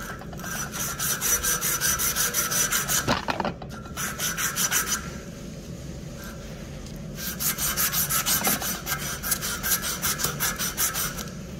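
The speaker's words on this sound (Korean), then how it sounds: "이렇게 사포질을 해주면 금방 빠르게 사포질을 하실 수가 있습니다." Rapid rhythmic rasping of a thin strip of sandpaper scrubbing a copper pipe before soldering, in steady bursts with a brief pause midway, close and fairly loud.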